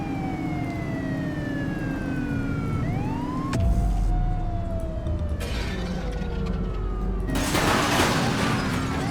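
A wailing police car siren in the video game The Precinct sweeps up and down, then shifts to a faster yelp, with engine rumble and a burst of noise near the end.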